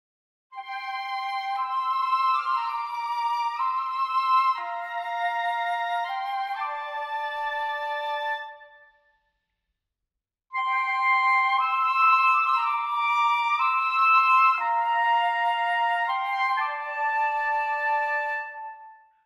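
Woodwind trio passage with a flute part and oboe and clarinet voiced above it in harmony, a short clean phrase that is played twice with a brief silence between, close and clear.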